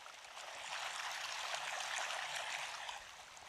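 A spring at Battir, beside green village terraces of fruit trees and vegetables, flows steadily nearby as a continuous bright rushing and trickling of water, close and even throughout with no voices.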